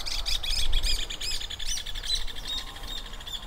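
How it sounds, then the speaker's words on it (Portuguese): Birds singing outdoors around a rural plot of land, a steady stream of bright repeated chirps and trills from several birds at moderate distance over a low background rumble, with no talking. "Só passarinho cantando na volta."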